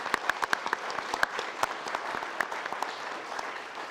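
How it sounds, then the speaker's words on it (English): A county commission meeting audience applauds Joanne Miller, a longtime clerk's office records specialist, with a moderate crowd clapping and several sharper, closer claps standing out irregularly. "So please, round of applause for Ms."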